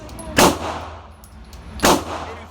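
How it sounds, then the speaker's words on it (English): Two sharp handgun shots at an outdoor firing range, about one and a half seconds apart, each a loud close crack with a brief ringing tail and no talk. "Do not ever be offended by getting startled by the sound of gun."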